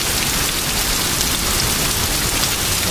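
Heavy rain and hail from a supercell thunderstorm pelt the camera in a loud, dense, unbroken hiss of close impacts with no voices.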